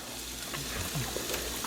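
A thick yellowtail snapper fillet frying in a pan, giving a steady, fairly quiet sizzle with faint crackles and no talk.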